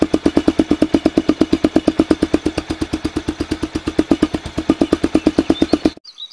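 A motorcycle with a homemade, no-cost exhaust modification idles close by. It gives a loud, even, rapid thumping pulse that holds steady for about six seconds and then cuts off abruptly.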